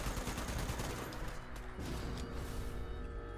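Raiders firing guns in the Fallout 76 video game, a dense, continuous burst of rapid gunfire and mechanical clatter filling the whole stretch, loud and without talk.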